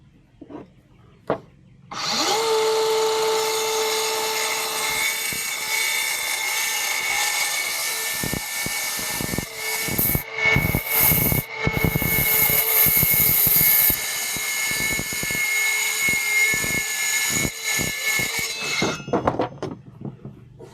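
A power saw cuts a star shape into a wooden board, running loud and steady for nearly twenty seconds with a whining motor tone, repeated dips and surges as the blade bites and turns, then winds down.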